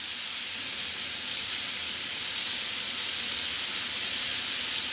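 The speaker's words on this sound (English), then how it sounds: "When you hear that sizzle, you know it's cooking good." Buffalo-style king oyster mushrooms sizzle in a hot pan, a steady bright hiss of frying that holds evenly throughout with no talk.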